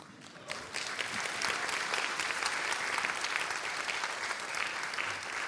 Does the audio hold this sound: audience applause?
yes